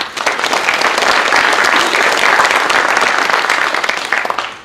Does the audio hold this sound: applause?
yes